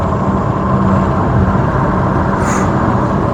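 A steady, loud BMW M5 Competition F90 engine drones with road noise while accelerating near a toll gate for a few seconds, no voices, the tone holding fairly constant.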